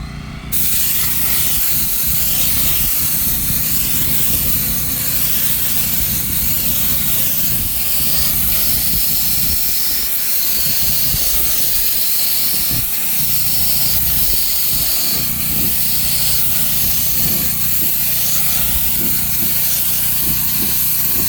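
Spray gun painting the hood of a Humvee Hummer H1, a continuous close, loud hissing spray with slight fluctuations in pressure, running almost unbroken throughout, with no voices.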